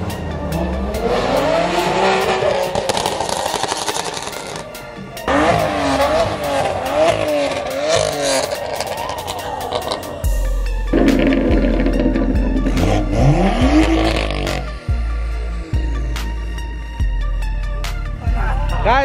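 BMW M cars, including M2 and M3 models with N55 and S55 engines, rev hard and drift on a breakfast run, with continuous loud engine roar, rising and falling revs and tire squeal throughout.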